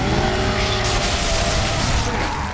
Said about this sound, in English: That flesh-ripping sound is the engine note of the Lancer Mark II assault rifle